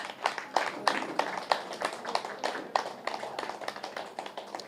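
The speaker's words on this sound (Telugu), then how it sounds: "గట్టిగా చప్పట్లు కొడదాం హరిబాబు మాస్టర్కి" A small audience claps for Haribabu Master at a gathering, a burst of individual hand claps in an uneven rhythm that gradually thins out, fairly close with faint voices underneath.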